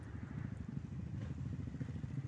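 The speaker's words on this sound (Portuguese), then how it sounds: "Aí, as motos vindo, aí." Several dirt motorcycles arrive along a trail, their engines heard faintly at a distance as a low, choppy, pulsing clatter that keeps up without a break.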